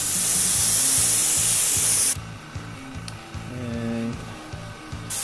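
An airbrush sprays temporary tattoo ink through a cloud stencil: a loud, steady hiss for about two seconds, then softer, shorter bursts of spray over a repeating background music beat.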